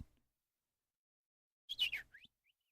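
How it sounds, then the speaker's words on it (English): A brief burst of high, quick chirps from a small bird, a short cluster then a faint trailing peep, alone in otherwise near silence. "It's little birds chirping, man."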